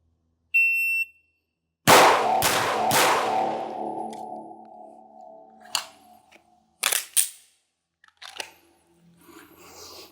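A short electronic shot-timer beep, then three sharp pistol shots in quick succession on an outdoor firing range during a Texas LTC qualification course, each shot loud and close with a ringing decay, followed by a few faint metallic clicks.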